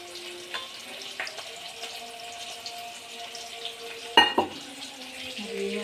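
Water poured into a spice paste with chili powder frying in a pan for an eggplant and hilsa curry: a steady soft sizzle, then a sudden loud hissing splash near the end that quickly settles.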